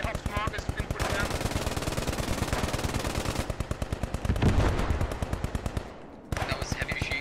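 Heavy machine gun fire in the World War 2 squad game Post Scriptum, long rapid bursts of shots with a brief break near the end, loud and sustained, with faint voices in the background.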